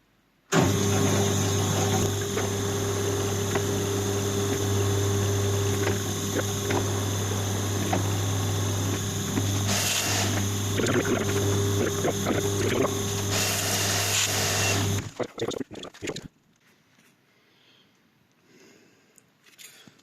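A milling machine running at 90 RPM cuts a 30mm thread with a Rotor Broach M2AL Raptor cutter, producing a loud, steady drone with a strong low hum. It stops abruptly near the end and leaves faint room sound.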